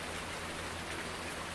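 Steady rain falling in Farming Simulator with the Seasons mod on a forest farm map, a constant even hiss of rainfall with no voices, heard alone.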